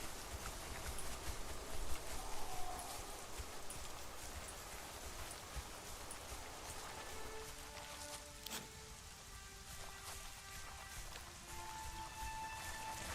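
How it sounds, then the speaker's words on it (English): Rain falling in Conan Exiles, a soft steady hiss and patter of drops continuing throughout, with faint scattered clicks and tones over it. "That's a lot of reason why I don't build up here is because the rain is so annoying."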